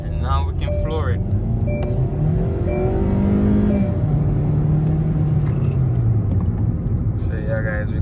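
A Hyundai or Kia car with a newly replaced intake runner and VCM motor is floored on a test drive, its engine note climbing steadily and droning loud and close inside the cabin.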